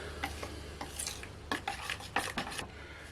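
Pizza dough mixture flavored with anise is stirred in a bowl, giving quiet scraping and rubbing strokes in irregular bursts, close by and with no talking.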